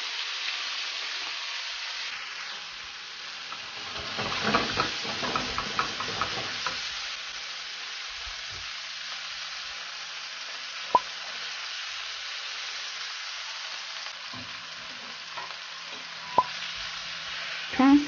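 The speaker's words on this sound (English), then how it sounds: "Flip and cook the other side until the meat is well browned" Pork loin sizzles steadily as it browns on its second side in a pan, with a short burst of stirring and scraping midway and a few sharp clicks, and no talking.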